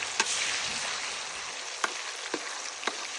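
Steady crackling sizzle of pork frying in a hot pan, with a few sharp clicks and taps of utensils scattered through.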